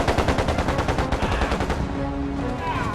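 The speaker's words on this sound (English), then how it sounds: "he sticks his rifle out and just sprays" Automatic rifle fire in a close-quarters firefight from the Vietnam War's Tet Offensive, a loud, rapid unbroken burst of shots that tails into echoing reverberation.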